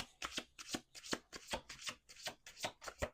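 A Rebel tarot deck being shuffled in quick, repeated riffling bursts, about eight rhythmic card flurries close to the mic, with no talk.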